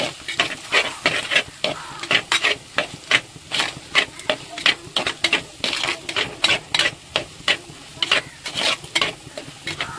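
Homemade prawn fried rice, made without sauces or ready-made mix, is stirred and tossed in a hot frying pan, giving a steady run of loud, rhythmic scraping strokes over a constant sizzle, close up and with no talking.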